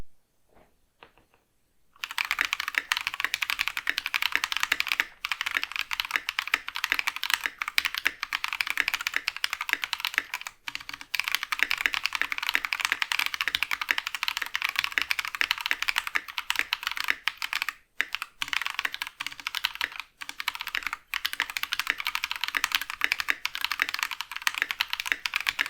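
Mechanical typing on a GK61 keyboard with added foam and Evil Airy switches: dense, continuous clacking that starts after about two seconds of silence and runs steadily, close and loud, with only brief pauses.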